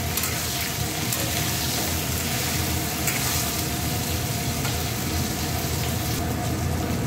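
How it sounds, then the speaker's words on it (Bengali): Onions frying in a pan together with potatoes during preparation of a dried fish dish, making a loud, dense, continuous sizzle close to the pan throughout, with no voices. "পেঁয়াজটা একটু ভাজা ভাজা হোক।"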